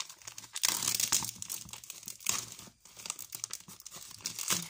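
Packaging of a miniature craft kit being opened, close crinkling and tearing of plastic and paper in quick irregular bursts throughout, with no voice.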